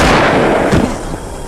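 A gunshot rings out in a film scene, one loud, sharp blast with a booming decay, followed by a rumbling echo and a softer second burst.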